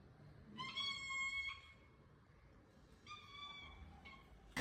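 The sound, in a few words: domestic cat meowing to have the door opened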